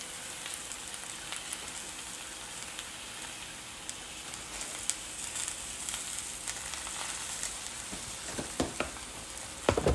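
Spinach sizzling as it cooks down in a pan, a dense steady crackle of hot oil close by, with a few sharper pops and scrapes near the end.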